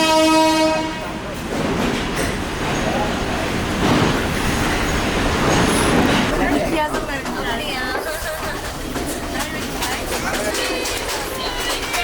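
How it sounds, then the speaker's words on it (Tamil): A small two-compartment train on the Ella to Demodara line in Sri Lanka rattles along, a horn-like tone at the start giving way to steady rumbling and clatter under continuous passenger chatter. "தமோதராக்கு ட்ரெயின் ஏறிட்டோம்."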